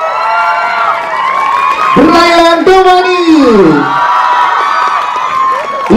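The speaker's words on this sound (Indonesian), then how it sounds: "tepuk tangan untuk Yasamin Jason," At an Indonesian film press conference, an announcer calls out cast names over a loud microphone while a crowd cheers and claps underneath, with a few whoops rising in the middle.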